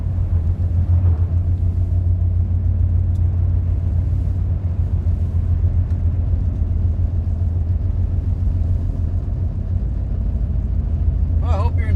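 Steady low engine rumble and road noise from inside a car cruising along a nearly empty I-630 highway, continuous and fairly loud throughout, with a brief brighter clicking near the end.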